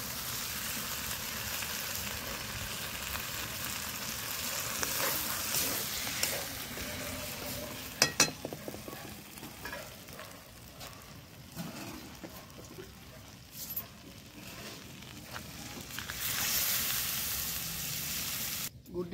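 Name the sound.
chicken sizzling in pan after water is added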